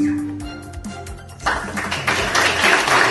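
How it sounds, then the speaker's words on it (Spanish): Audience applause breaks out at a community event in Comalcalco marking the start of construction on a small shop at CAM 10, rising suddenly after a brief quieter stretch and continuing as dense, steady clapping. "Quisiera pedirles un minuto de aplauso"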